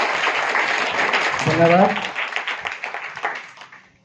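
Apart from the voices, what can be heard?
children clapping to welcome a guest at school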